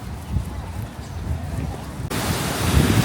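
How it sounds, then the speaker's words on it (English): Strong storm wind in Beijing rumbling and buffeting the microphone, growing louder and harsher partway through, with a voice faintly heard. "See that wind picking up?"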